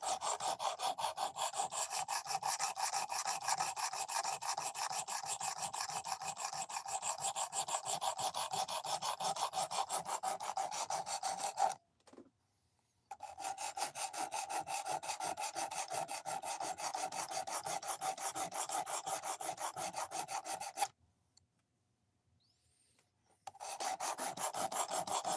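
A knife's edge bevel worked against a sharpening stone, removing metal in a continuous rhythmic rasp of fast back-and-forth strokes, close and fairly quiet, broken by two short pauses.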